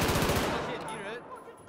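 A fast burst of rapid gunfire in Battlefield 4 on the Dawnbreaker map rattles loudly up front, then decays into a ringing tail.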